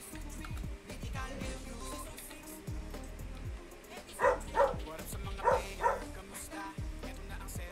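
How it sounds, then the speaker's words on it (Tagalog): A dog barks noisily in the background during a Mythical Siege final round, a handful of sharp barks in two quick pairs near the end, rising over ongoing game sounds and chatter. "Thank you sa aso guys ha, maingay."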